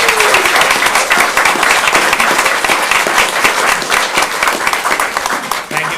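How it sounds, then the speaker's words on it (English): An audience at a regular council meeting claps for a chili cook-off leader, a loud, dense burst of many hands that carries on steadily throughout and tapers slightly at the close. "We have one more round of applause for our chili cook-off leader"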